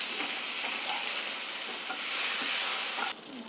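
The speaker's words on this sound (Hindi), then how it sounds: "अब चिकन फ्राई हो चुका है" Chicken pieces fry in hot oil for biryani with a loud, steady sizzle and crackle, which drops abruptly near the end, with no talking.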